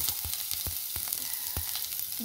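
Garlic frying for sotanghon sizzles steadily in a pan, a continuous crackling hiss broken by several sharp clanks of a utensil stirring against the metal, close and moderately loud with no voices.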